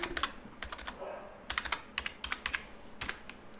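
Typing on a computer keyboard, quick clusters of crisp key clicks with short pauses between bursts, close and fairly quiet with no talking.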